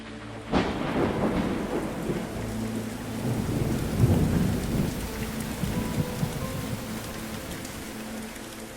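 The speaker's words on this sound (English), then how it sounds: "a huge tropical storm was on the way" A heavy tropical thunderstorm with steady, loud rain pouring down and a sharp thunderclap early on, followed by rolling rumbles under the continuous downpour.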